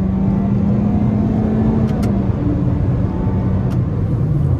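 A 2023 Toyota Corolla 2.0 pulling out to overtake on a highway, heard from inside the cabin as a steady loud engine drone, with wind and tyre noise and a gradual rise in pitch as it accelerates.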